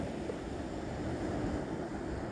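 Steady rushing wind fills the whole stretch, a broad continuous whoosh with faint buffeting against the microphone and no voices.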